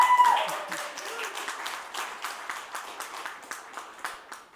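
An audience claps in applause, dense at first and then thinning into scattered, rhythmic claps that fade out, with brief talk at the start.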